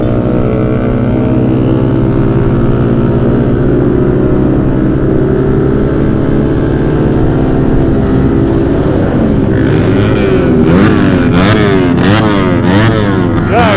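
A motorcycle fitted with a JB159 trioval exhaust idles loud and close with a steady burbling note, then breaks into several sharp rising and falling revs over the final few seconds.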